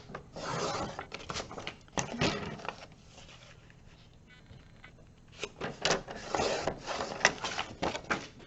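Paper border being trimmed off for a small handmade mini journal: scissors snip and crisp paper rustles in irregular bursts, close and fairly quiet, with a calmer pause in the middle.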